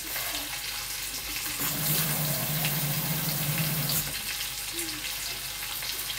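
Water runs from a kitchen tap into a pot for broth, a steady close rush that grows fuller midway and then tapers, with no talking.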